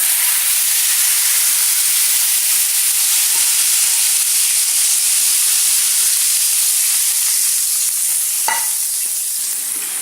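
Hot tadka tempering poured into Punjabi kadhi pakora crackles in a loud, dense, continuous sizzle with steam hissing, close up and unbroken, with one brief clink near the end.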